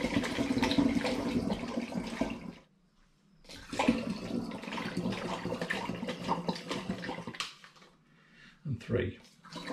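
Juice glugs and splashes from a carton into a demijohn while turbo cider is being made, a continuous pour that breaks off briefly partway through, then resumes, with a few sharper sloshes at the end.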